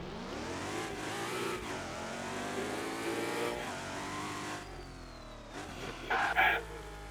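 Car engine revving in a Roblox driving game, a sustained loud rev with rising and falling pitch, a shift partway through and a brief higher whine near the end, no voices.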